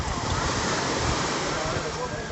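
Big sea waves rushing past during a boat ride at a beach, a loud, steady roar of surf and wind noise filling the whole moment.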